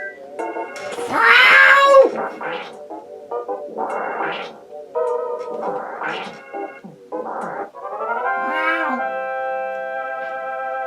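Repeated synthesized cat meows and yowls from the PSI Meowin' attack in the retro RPG EarthBound, loud and wavering, with a tonal game chime sounding near the end.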